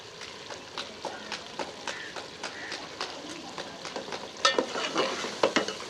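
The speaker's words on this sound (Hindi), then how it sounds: "गोश्त को भूनते हुए मुझे 6 से 7 मिनट हो गए हैं।" Chicken frying in oil in a pan with ground garam masala, a soft steady sizzle punctuated by regular scraping strokes of a spoon stirring, growing a little louder toward the end.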